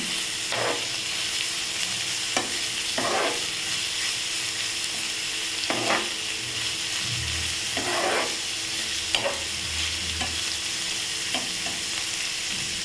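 Onions and curry leaves sautéing in a pan, a steady frying sizzle broken by several stirring scrapes spaced a second or two apart, close and moderately loud with no talking.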